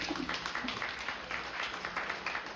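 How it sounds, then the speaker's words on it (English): Audience applause at a DeSciNYC biomarkers talk, a steady, fairly even wash of many hands clapping for the whole stretch, moderately loud with no clear talk. "let's give our speaker a round of applause"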